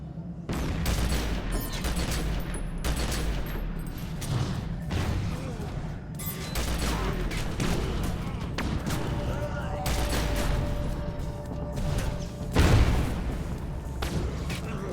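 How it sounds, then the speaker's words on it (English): Gunfire and explosions from shooting exploding barrels at long range in the action game OneIPMan 14 Blood and Fire, with dense repeated bursts and booms and a heavier blast near the end, loud and continuous, with some talk mixed in. "For once, I'm long enough range to actually shoot the exploding barrels"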